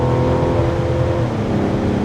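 A 2024 Mazda CX-90 Premium Plus SUV accelerating to pass, its engine note a steady loud drone heard from inside the cabin, rising slightly over two seconds with no talking.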